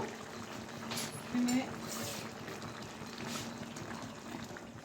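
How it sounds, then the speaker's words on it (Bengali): Water is poured into a pan of chicken curry with potatoes, peas and tomato, a soft, steady trickle and splash under faint kitchen background, with a brief clink midway. "দিয়ে দিলাম জল দিয়ে দিলাম"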